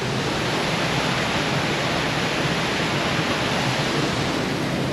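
Gunlock Falls waterfall pours in a dense, steady roar of rushing water, loud and close with no break and no voices.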